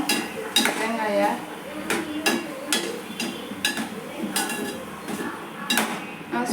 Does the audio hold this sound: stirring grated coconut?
yes